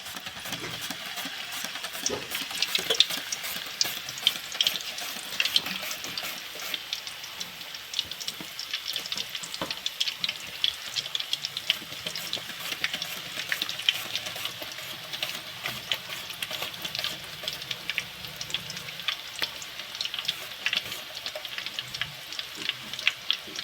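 Raw potato wafers frying in a pan of hot oil, a steady dense crackle and hiss that runs without a break, close and fairly quiet, with no talking.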